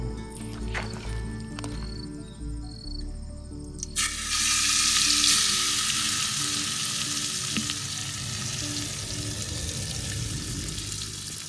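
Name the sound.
onions frying in a clay pot for Champaran-style chicken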